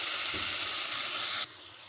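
Turmeric-laced spice masala sautéing in a pan with a splash of water for a paneer vegetable curry, a loud steady sizzle close up that cuts to a quieter hiss near the end.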